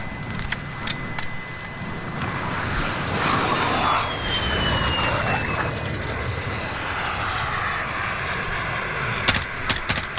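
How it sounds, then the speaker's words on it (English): An enemy VTOL jet passes overhead in Call of Duty Modern Warfare on the Hackney Yard map, a steady loud roar with a descending whine, ending in a few sharp gunshot cracks. "Enemy VTOL jet in the AO."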